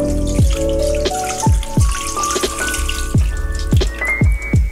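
Lotus root slices are rinsed in a bowl of water, giving repeated close, clear drips and splashes roughly every half second, with a brief watery, clinking quality to each stroke.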